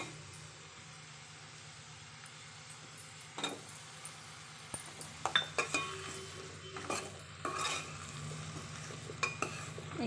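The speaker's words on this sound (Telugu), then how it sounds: "ఇందులో మనం ముందుగా కట్ చేసి పెట్టుకున్నాం కదా ఆలును కూడా యాడ్ చేసుకుందాము" Cut potatoes are tipped into a pan of brinjal curry and stirred, with a spoon clinking and scraping against the pan over a soft, steady sizzle of frying.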